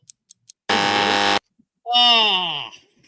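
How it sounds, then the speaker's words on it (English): A harsh electronic buzzer blares for under a second, loud and steady, ending the allotted time; a voice follows briefly after. "there is a buzzer"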